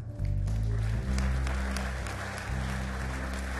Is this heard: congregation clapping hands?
yes